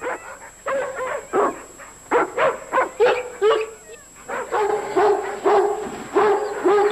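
A dog barks in quick bursts and whimpers between them, with high yips and whines in an irregular rhythm. It is close, loud and heard alone.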